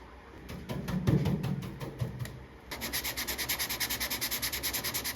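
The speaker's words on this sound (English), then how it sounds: "Sand it back down with 80. That way the Bondo or the glazing putty will have something to adhere to." Sandpaper of 80 grit scuffs Bondo on a car roof in close, rhythmic strokes: a few irregular passes first, then a steady run of quick, even back-and-forth rubs.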